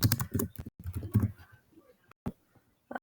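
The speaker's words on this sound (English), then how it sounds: "And then I also want to type my name." Computer keyboard typing a name: a quick patter of close key clicks in uneven bursts, thinning out to a few isolated taps with short gaps between.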